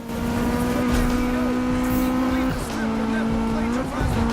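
A car brakes hard for a corner in the Need For Speed racing game, its tyres squealing in a long sustained screech over a loud engine roar that dips and swells, with a voice talking over it.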